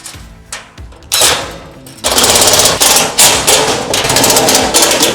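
A power driver runs screws back into a shelf while a Holman cabinet locker is installed in a RAM ProMaster van, loud and close, a short burst followed by longer sustained whirring with brief pauses.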